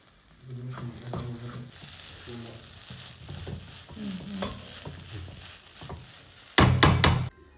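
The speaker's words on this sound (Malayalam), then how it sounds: "ഈ സോയാബീൻ ആയിട്ട് മിക്സ് ചെയ്ത് കൊടുക്കാം. അവസാനമായി കുറച്ച് സോസും കൂടി ഒഴിച്ചു കൊടുക്കുക." Soya chunks are stirred with sauce in a frying pan, soft sizzling under repeated scraping and knocking strokes of a spoon, ending in a louder burst of fast stirring.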